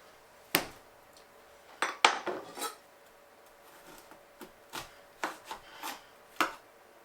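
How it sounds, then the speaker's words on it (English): Pears being cleaned and cut up with a knife in a home kitchen, sparse close knife taps and scraping clicks at irregular intervals, quiet between strokes, no talking. "I am just going to finish cleaning and cutting these up really quick"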